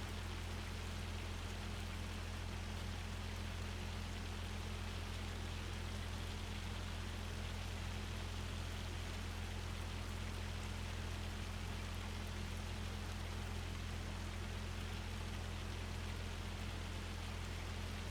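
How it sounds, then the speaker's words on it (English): Steady rain pours down in Farming Simulator 25 during a rainstorm over farm fields, a constant even hiss that runs unbroken for the whole stretch with no talk over it. "Another rainstorm coming in."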